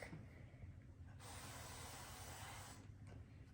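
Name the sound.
cooking spray sprayed onto a pan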